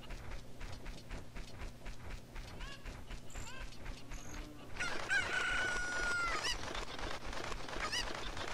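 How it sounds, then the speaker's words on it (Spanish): Chickens in the Zelda Ocarina of Time video game cluck and crow, giving a loud cock-a-doodle-doo midway over a steady game background, with faint talk in places. "Ahí está, la última gallina."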